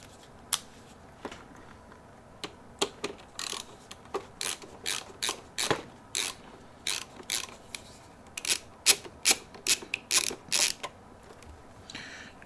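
A screw being unscrewed from a Protogen costume with a screwdriver: a long run of close, crisp ratcheting clicks in short uneven bursts, sparse at first and then quickening into steady clusters of ticks.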